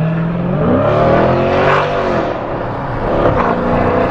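A Dodge Challenger Scat Pack 392 engine revs loudly and aggressively through a throaty exhaust with DynoMax Race Bullets, pitch rising and falling in bursts, close by with no talking.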